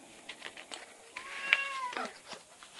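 A house cat meowing, a single clear drawn-out meow near the middle with some faint rustling around it, close by and with no talk.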